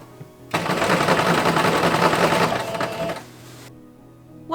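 A sewing machine runs basting stitches along a petticoat ruffle, a fast even rattle that starts abruptly, holds for about three seconds, then stops, close and fairly loud.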